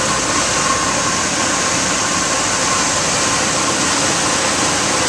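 A 2007 Dodge Ram 1500 crew-cab SLT Big Horn 4WD pickup with a 5.7L HEMI V8 idles smoothly, giving a steady, even engine hum close by that holds constant throughout with no talking.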